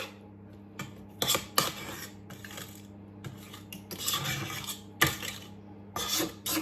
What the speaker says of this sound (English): I'm going to scrape round the edges to make sure, because sometimes these mixers don't get right to the edge.